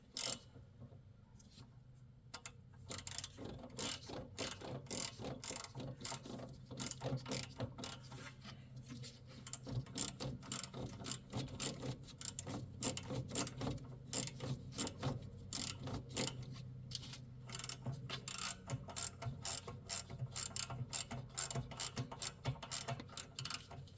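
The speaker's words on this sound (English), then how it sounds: "Socket wrench." Small socket wrench ratcheting steadily while reinstalling the starter on a Rato 739cc CRT 23 Chinese engine, a long run of quick metallic clicks in bursts, close and clear with no talk.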